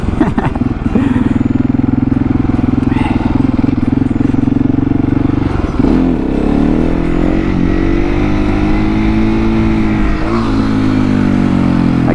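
A motorcycle is revved hard through a wheelie, its engine holding a loud, steady drone that dips briefly and climbs again as the throttle opens, close by with faint clatter.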